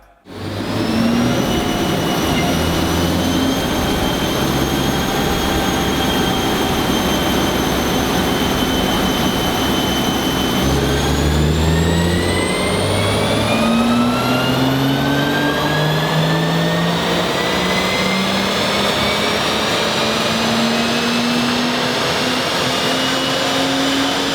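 A stock 2018 BMW M240i accelerates hard in a performance test. Its engine note climbs steadily, shifts once partway through, then climbs again, loud and close with no talking.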